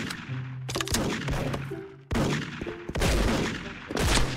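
Rapid gunfire in the Special Force online shooter, dense bursts of loud, cracking shots in quick succession with brief gaps and in-game tones in between, no talking.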